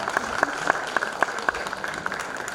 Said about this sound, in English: So a big applause for HCL for their support